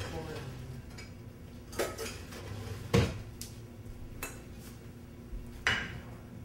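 A spoon clinks against a dish of SOS, with a few sharp, isolated metallic taps spaced about a second apart over a quiet room background.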